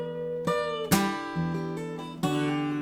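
An electric guitar plays part of a riff without its last note, a few plucked notes in slow sequence, each ringing clearly, close and alone.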